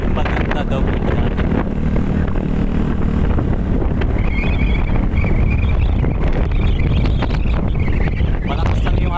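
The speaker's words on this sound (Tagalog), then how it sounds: "Malakas lang yung hangin, pero kakayanin natin." Strong wind buffets the microphone with a constant roaring rush, while a motor hums underneath and a voice speaks briefly.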